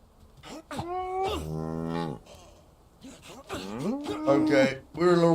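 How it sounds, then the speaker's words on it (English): Cow in the zombie survival game Into the Dead: Our Darkest Days lets out several loud, drawn-out moos close by, each a long tonal bellow rising and falling, with short gaps between calls. "And we've got a cow."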